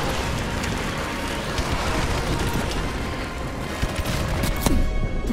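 An airstrike in Modern Warfare Remastered pounds down as a continuous roar of close explosions and crackling gunfire, with a dense wash of blasts and a sharper impact toward the end.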